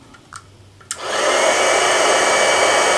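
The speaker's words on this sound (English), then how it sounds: "Back to that heat emboss tool." After a couple of faint clicks, a handheld heat embossing tool switches on and roars steadily like a small hair dryer, loud and close, warming sticky embossing powder on a holly berry wreath card.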